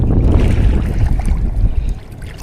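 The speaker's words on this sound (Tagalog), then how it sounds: "Lakas ang hangin mga amigo." Strong wind buffets a fishing boat out at sea, a steady low roar of gusts and microphone rumble with water sloshing beneath, continuous and loud throughout without speech.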